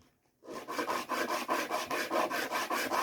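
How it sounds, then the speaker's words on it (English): A piece of blue calcite gemstone is pressed flat and ground back and forth by hand on an abrasive surface. After a brief silence, steady, evenly spaced gritty rasping strokes repeat closely and loudly. "grind it back and forth"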